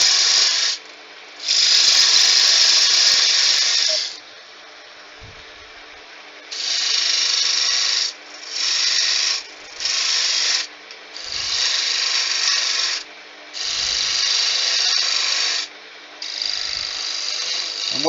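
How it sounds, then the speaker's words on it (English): Spindle gouge cutting a wooden candlestick blank spinning on a lathe, a loud hissing scrape in repeated bursts of one to three seconds separated by short pauses, over a low motor hum. "start getting a rough shape before you refine it with your spindle gouge"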